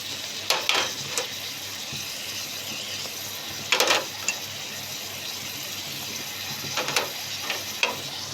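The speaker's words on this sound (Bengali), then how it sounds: "আমি আলুটাও ভেজে নিব পেঁয়াজের সাথে। কিছুক্ষণ ভাজার পর ভাজা হয়ে গেছে।" Potatoes fry with onions in a pan, a steady moderate sizzle broken by a few sharp spatula scrapes and stirring clatters.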